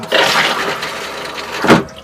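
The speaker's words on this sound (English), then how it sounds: "and flush the toilet" A toilet flushes in the small bathroom of a converted 6x12 cargo trailer, giving a short close rushing gurgle that ends in a brief second surge.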